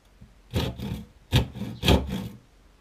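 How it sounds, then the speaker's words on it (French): Hand saw cutting through slightly damaged wood in about four rasping strokes, close and fairly loud, with short pauses between strokes. "je vais utiliser la scie à bois parce que ça ira plus vite"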